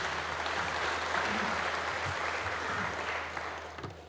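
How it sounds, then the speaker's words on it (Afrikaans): A church congregation at a Christmas service claps for a birthday, giving steady, dense applause that fills the room and fades slightly toward the end. "Kom ons klap vir haar lekker hande."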